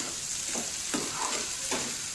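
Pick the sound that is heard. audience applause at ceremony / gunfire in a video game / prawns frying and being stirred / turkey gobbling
prawns frying and being stirred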